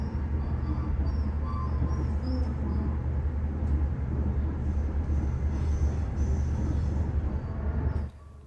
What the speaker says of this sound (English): You might have noticed a droning sound in the background for much of this video.